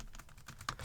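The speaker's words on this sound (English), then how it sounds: "Type on the keyboard." Quiet keystrokes on a computer keyboard, a few soft clicks in quick irregular succession, close and faint with no talk.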